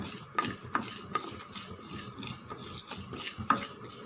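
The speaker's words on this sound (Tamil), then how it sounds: "கடுகு பொரிக்க ஆரம்பிச்சிடுது" Mustard seeds popping and crackling in hot oil: a soft sizzle with scattered sharp pops and occasional clinks of a spoon, no voices.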